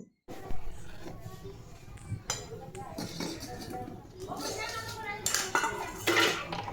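Cow's milk with cardamom stirred in a pot for carrot halwa, with a spoon clinking and scraping against the metal in irregular bursts while someone talks throughout.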